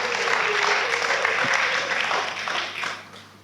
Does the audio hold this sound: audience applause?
yes